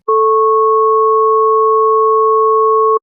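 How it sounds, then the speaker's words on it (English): Two steady pure sine tones sound together as a sustained dyad, loud and unchanging, starting and stopping cleanly with no other sound. "if we sum the sinusoids, the resulting waveform will look like so, and if we play it, it will sound like two tones playing in parallel"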